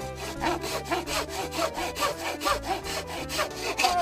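A hand saw cuts through bamboo in steady back-and-forth strokes, each pass a rasping scrape in an even rhythm, close and loud with no talking over it.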